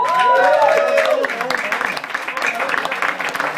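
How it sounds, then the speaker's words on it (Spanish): Audience applause for the drummer of Sandford Music Factory at a live band show, a crowd's clapping rising as a voice and lingering tone fade, then continuing as a steady, fairly loud patter. "Pincha la batería, un aplauso."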